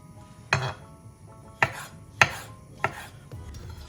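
Knife cutting chicken fillet on a board while making chicken liver pâté, four distinct sharp chops spaced irregularly, close and clear over a quiet kitchen background.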